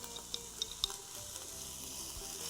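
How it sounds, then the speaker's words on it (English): Minced garlic gets stirred into onions in a pot, with a soft, steady sizzle of frying and a few faint spoon taps against the pot. "So you could just stir that in,"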